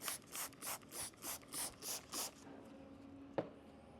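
A hand rubs ceramic spray coating into a car surface in eight even, rhythmic strokes, soft and close, followed by quiet and a single sharp tap.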